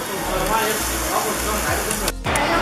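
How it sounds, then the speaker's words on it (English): Steady loud sizzling and crackling of meat on a barbecue grill in China, a dense continuous hiss with a brief dip partway through. "The sizzling action."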